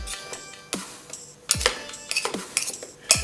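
A metal utensil scrapes and clinks against the rim of a cake pan, producing a series of sharp, close taps and rattles in an irregular rhythm with quiet gaps between them.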